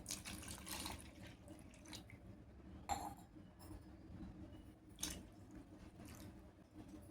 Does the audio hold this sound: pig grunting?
no